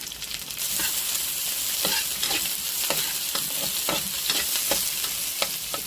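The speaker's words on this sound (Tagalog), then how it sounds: "Ilalagay na natin ang ating bawang." Garlic fries in a pan under a steady sizzle while a utensil scrapes and stirs it in repeated, close strokes.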